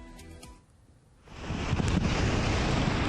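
Large ocean waves surging onto Pulang Sawal beach in Gunung Kidul, a low rushing roar that swells from quiet to loud and stays heavy, mixed with strong wind buffeting.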